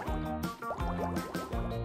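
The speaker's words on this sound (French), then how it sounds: "On met ça dans de l'eau savonneuse et c'est parti!" Red-tinted soapy water is poured for making bubbles, giving a gurgling, bubbling fill with a rising liquid tone that repeats in short pulses, close and fairly clear.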